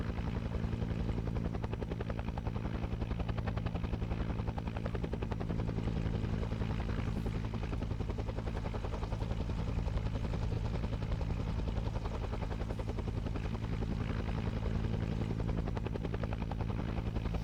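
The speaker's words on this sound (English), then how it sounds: "Helicopter due north." A helicopter flies nearby during pre-campaign field training, its steady rotor thump and engine roar holding loud and constant throughout with no break.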